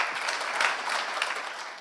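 Applause welcoming a poet at a Global Urdu Poetry Festival mushaira in Dubai, a steady wash of many hands clapping from a large audience, even and sustained for the whole moment.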